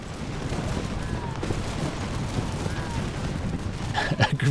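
Continuous crackling musket volleys from massed infantry in a war strategy game set in the American Revolution, a dense rolling fusillade of overlapping shots, with heavier booming thumps near the end.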